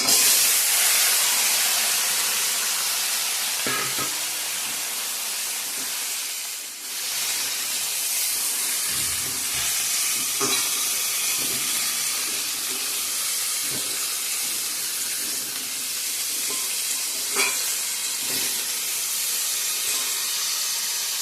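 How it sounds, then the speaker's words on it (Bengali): Sweet pumpkin slices frying in a pan, giving a steady, fairly loud sizzling hiss throughout with a few brief pops and crackles and no voices. "তো এদিকে কুমড়া ভাজাটা বসিয়ে দিলাম"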